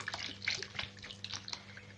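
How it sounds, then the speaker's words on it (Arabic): Water being poured from a tap over washed potatoes in a pot to cover them, a faint splashing and trickling with small drips, heard alone. "هفضي عليها ميه، اخلي الميه تغطيها"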